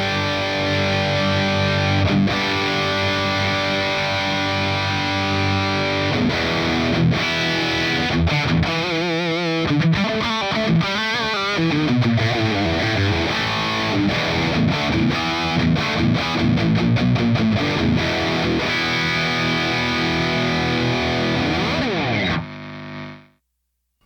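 Heavily distorted electric guitar played through a Mezzabarba amp, with sustained chords, palm-muted chugs and busy riffing that stay loud and dense throughout, with no voices, before cutting off abruptly near the end.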